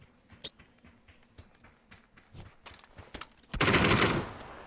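Gunfire in PUBG on the Vikendi map, a scatter of distant single cracks followed by a loud, close burst of rapid automatic fire lasting about a second.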